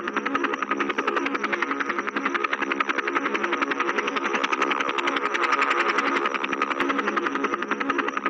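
A cartoon helicopter's engine runs steadily as a fox flies it away, a loud, continuous buzzing drone with a fast, even rotor pulse throughout, no voices over it.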